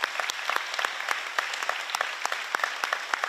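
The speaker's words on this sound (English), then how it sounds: "Another round of applause for their bravery." A smaller audience applauds graduating sixth graders at a school ceremony, with individual claps clearly distinct in a moderately paced, fairly quiet patter.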